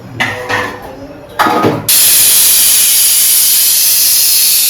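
Two short bursts of talk in a home kitchen, then a pressure cooker whistle bursts into a loud, sustained hiss of escaping steam that continues to the end.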